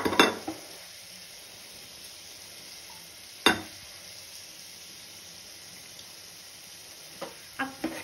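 Rice and dal roast quietly in ghee and masala for khichdi, a faint steady sizzle broken by a few sharp scrapes of a spoon against the pot.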